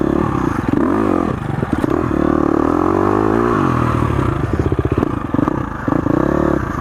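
2019 KTM 350 XCF dirt bike being ridden, its engine rising and falling in pitch as the throttle is worked through turns, with clattering and scraping from the terrain, loud and continuous.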